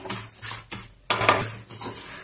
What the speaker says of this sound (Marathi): तर बघा तिळाचा आवाज यायला लागलेला आहे।